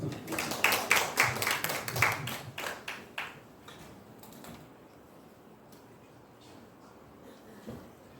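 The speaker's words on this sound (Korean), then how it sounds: "네, 다시 한번 박수 부탁드립니다." A seminar audience gives a short round of applause, a burst of claps loudest at the start that thins out over a few seconds into quiet room tone with faint scattered noises.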